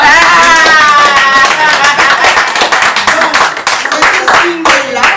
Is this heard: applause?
yes